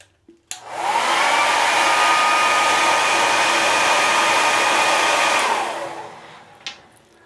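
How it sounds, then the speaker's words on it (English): A hair dryer switches on and blows with a steady, loud whoosh for several seconds, warming a handlebar moustache, then winds down and clicks off. "first thing I got to do, warm it up with a hair dryer"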